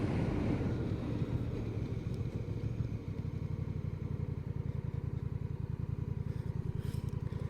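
A 2025 Honda Rebel 1100T DCT motorcycle riding through town, its engine giving a steady low rumble that grows into an even pulsing drone, with wind buffeting the microphone throughout.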